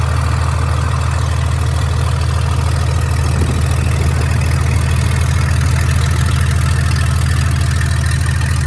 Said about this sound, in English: we got the engine up in RPM